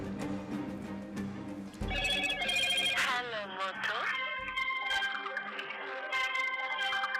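A telephone rings during a call in a Bengali dramatized story, its electronic ringtone chirping repeatedly over music and background voices.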